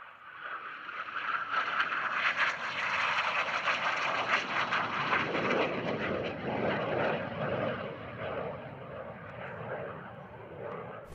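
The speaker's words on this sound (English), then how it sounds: "the G4 Super Galeb Advanced Trainer" A G-4 Super Galeb advanced trainer jet passes at an air show, its engine roar swelling to a loud broad rush and then slowly fading as it moves away.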